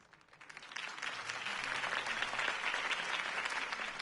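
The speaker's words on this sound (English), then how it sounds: "could have heard that applause" A video game crowd breaks into applause that swells quickly and holds as sustained, dense clapping, loud and continuous.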